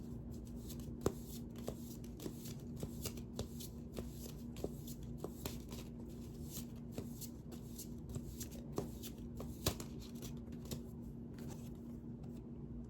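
Deck of tarot-style reading cards shuffled by hand, producing a steady run of soft riffling clicks and flicks over a quiet room hum throughout.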